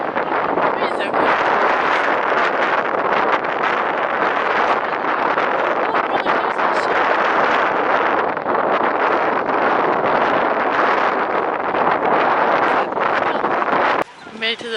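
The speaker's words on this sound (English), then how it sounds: "it's a little windy" Steady, loud wind buffets the microphone at the Reykjavik waterfront near a boat, a continuous broadband roar that lasts throughout and drops away abruptly near the end.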